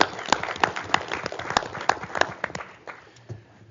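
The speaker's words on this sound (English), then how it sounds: "let's give a round of applause to our HEART team" A small group claps at a county executive committee meeting, with scattered sharp claps that thin out and fade within a few seconds.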